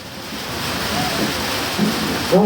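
Heavy rain pours in a steady, dense hiss throughout, loud and continuous, with a few faint tonal sounds near the end.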